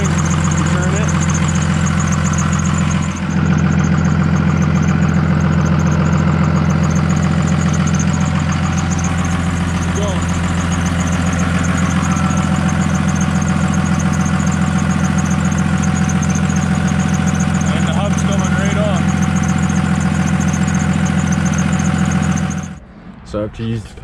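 Dodge Ram 2500 engine idling steadily in a workshop during front axle u-joint work, a loud, constant low drone with a faint knocking texture that holds for the whole stretch and stops abruptly near the end.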